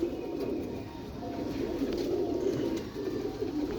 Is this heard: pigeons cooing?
yes